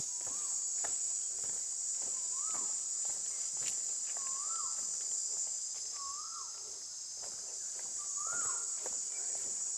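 Cicadas keep up a constant high, shrill drone in the forest near a cave, while a bird's short rising call repeats roughly every two seconds in the background.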